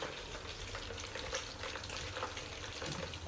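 Green chicken kebab fries in hot oil with a dense, steady crackle and sizzle, heard close and alone.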